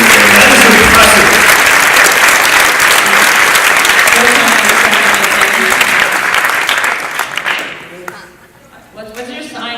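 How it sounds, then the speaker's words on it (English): An audience at a MAGFest opening event breaks into loud, sustained applause with dense clapping. The applause fades near the end as voices come through. "that deserves a round of applause"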